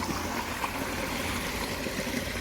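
A farm water pump motor runs steadily while filling a water tank for mixing crop spray in a castor field, a continuous broadband whir with a watery rushing texture, close and unbroken throughout, with no voices.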